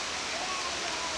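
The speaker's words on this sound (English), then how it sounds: "Look, there's an indoor waterfall." An indoor waterfall gives off a steady, even rush of falling water, filling the space at moderate level without breaks, with a faint murmur of people in the room beneath it.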